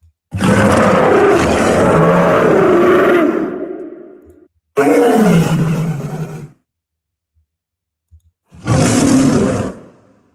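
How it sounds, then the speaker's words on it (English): A lion roar sound effect plays as three long, loud, rasping roars separated by silent gaps, the last one shorter. "Should I use that roar, that lion roar right there?"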